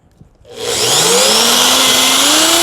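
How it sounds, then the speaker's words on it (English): A power drill spins up from silence and runs steadily at high speed, loud and close, while fitting a nipple for an automatic pig watering system. "And then I'm gonna go ahead and grab this drill."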